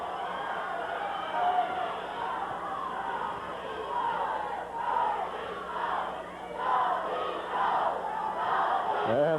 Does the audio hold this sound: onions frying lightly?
no